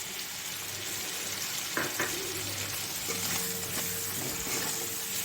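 Prawns frying in a pan with cumin and coriander powder, a steady close sizzle with occasional stirring scrapes and no voices over it.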